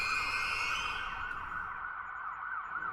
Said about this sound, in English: I could already hear sirens in the far distance.